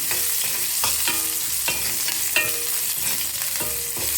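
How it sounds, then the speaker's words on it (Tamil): Shallots sautéing in a pan for sambar, a steady close sizzle with repeated spoon scrapes and clinks stirring through it. "சின்ன வெங்காயத்தை கொஞ்சம் வதக்கி போடுவோம்"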